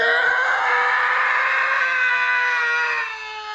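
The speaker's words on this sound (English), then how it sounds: "Hey, that's my scream," A person lets out a loud, sustained, high-pitched scream lasting about three seconds, steady and strained before tailing off slightly at the end, heard alone without talk.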